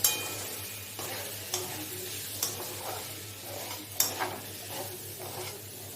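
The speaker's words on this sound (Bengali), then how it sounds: "ডালিয়া দিয়ে আমি এটাকে ভালোভাবে ভেজে নেব" Broken wheat (dalia) fries with spiced potatoes in a pan, giving a low sizzle punctuated by sharp spatula scrapes and clinks against the pan every second or so, heard close up with no talking.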